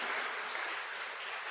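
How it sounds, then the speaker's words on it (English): A community engagement forum audience gives a brief, fairly faint round of applause, a steady wash of clapping with no voices over it. "Let's give it a round of applause"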